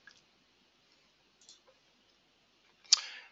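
A few faint, sparse mouse clicks in DIANA software on a computer, spaced apart and ending with one sharper, louder click.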